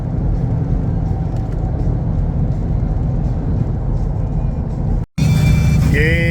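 Ford F-150 pickup with a Coyote V8 driving on a road in rain, a steady loud engine and road hum from inside the cab that cuts out briefly near the end, then resumes.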